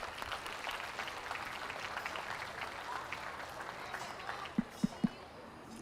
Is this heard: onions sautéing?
no